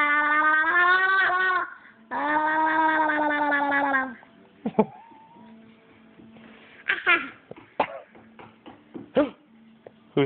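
A cat gives two long, loud, drawn-out meows, each about two seconds, close by, followed by quieter bumps and short clicking sounds.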